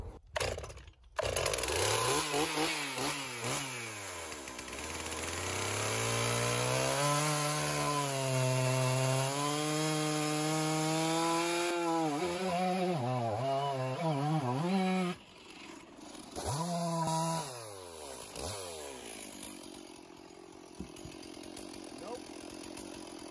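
A chainsaw cuts through a log at a sawmill. The engine is loud and close, and its pitch rises and falls as the cut bogs and frees up, with short revs and pauses near the end.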